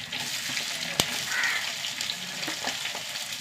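Small onions, green chillies, crushed garlic and dried red chillies frying in a pan give off a steady, close sizzle, with a sharp crackle or stir knock near the start and no talking.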